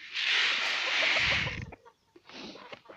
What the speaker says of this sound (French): Le coq qui est là.